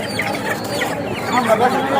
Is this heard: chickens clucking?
yes